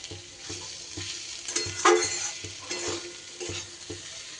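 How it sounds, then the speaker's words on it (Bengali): Fried bitter gourd stirred in a pan over low gas, a soft continuous sizzle with regular scraping strokes of a spoon against the pan and one brief louder clatter, no talking. "উচ্ছেগুলো দিয়েও খুব ভালো করে গ্যাস কমানো অবস্থায় নাড়াচাড়া করে নিতে হবে।"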